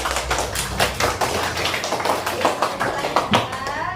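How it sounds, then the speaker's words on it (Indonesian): Classmates in a primary classroom clap for a fellow pupil, a steady burst of close, irregular hand claps with some background voices mixed in. "Tepuk tangan untuk temannya."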